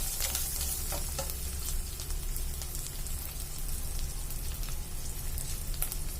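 Whole small garlic cloves fry in oil for a prawn pickle, making a loud, dense, continuous sizzle broken by scraping stirs and scattered crackling pops.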